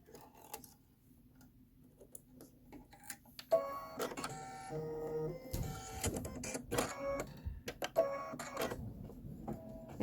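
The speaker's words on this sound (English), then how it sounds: "let that do its 6 minutes of stitching" A home embroidery machine stitches a fire station design. A fast, rhythmic mechanical ticking and whirring starts quietly, then grows busier with clacking bursts and brief pauses, heard close up.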